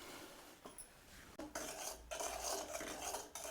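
Scrubbing a cooking pot with a soft scrubber, close and fairly quiet rubbing strokes with light metallic scraping, starting softly and growing more continuous after a pause.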